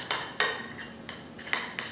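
A utensil stirs cream cheese powder with water in a bowl, giving several distinct clinks and scrapes against the bowl at an irregular rhythm, close and fairly clear.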